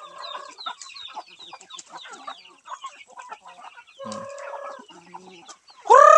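Palawan native chickens and chicks in a coop, clucking and chirping in scattered, overlapping calls, fairly close, ending with a sudden loud rooster-like squawk.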